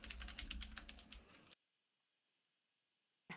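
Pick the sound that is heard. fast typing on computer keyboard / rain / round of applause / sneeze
fast typing on computer keyboard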